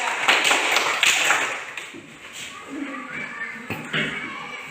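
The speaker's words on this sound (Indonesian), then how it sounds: "Oke, tepuk tangan dulu untuk kelompok 3." A classroom of students claps for a group after their presentation, a dense burst of hand claps that stays fairly loud then thins into scattered claps and noise.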